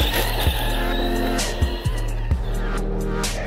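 An Arrma 4x4 RC car with a new ESC drives on muddy ground. Its electric motor whines in repeated rising bursts of acceleration, about four pulls with brief drops between them, loud and close.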